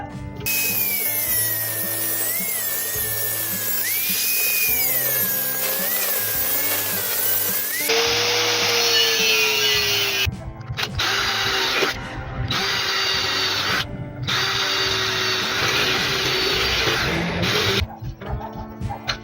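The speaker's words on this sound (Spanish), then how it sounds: "con nuestro esmeril, nos vamos a apoyar con nuestro disco, un disco de corte" An angle grinder with a cutting disc cuts grooves to fit a mortise lock, giving a loud, high, whining scream that drops to a lower load tone and then cuts in and out in short bursts.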